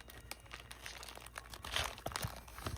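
Soft crinkling and scratchy rustles of plastic packaging being picked at and peeled, in short irregular bursts, close and fairly quiet, with no voices.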